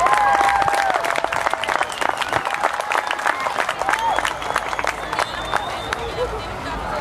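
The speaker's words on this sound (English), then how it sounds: "As they enter the water, give them a big round of applause." Crowd at the Jones Beach airshow breaking into sustained applause during a combat search-and-rescue demo, dense clapping from many people outdoors with a background hubbub of voices, gradually thinning out.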